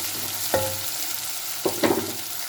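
Chopped ridge gourd dropped into hot oil and frying, a soft sizzle under a few stirring clinks and scrapes, brief and close with no voices.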